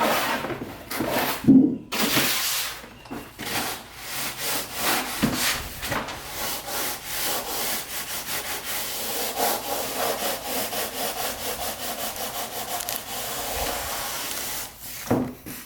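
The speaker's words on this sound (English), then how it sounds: "what I like to do is take a sanding block and just run it across both edges" A sanding block wrapped in 120 grit sandpaper rubs along wooden edges in repeated rasping strokes. The scratching is steady and close, with a few brief pauses, and no voice is heard.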